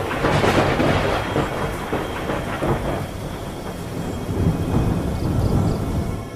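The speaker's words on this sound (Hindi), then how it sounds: "तभी अचानक उस समुद्र में तेज तूफान उठने लगा और लहरें ऊपर नीचे करने लगी।" A raging sea storm rumbles with heavy thunder and rain, a dense, loud, continuous roar with rolling low crashes and no voices.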